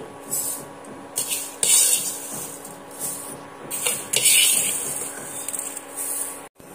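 Fried flattened rice is scooped from a hot pan with a utensil, producing intermittent scraping and rustling bursts over a low background hum, close up with a faint lingering sizzle.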